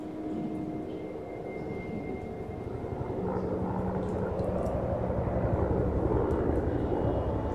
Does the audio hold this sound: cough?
no